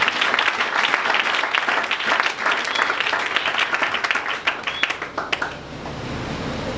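A church congregation applauds loudly and continuously, the clapping thinning out toward the end.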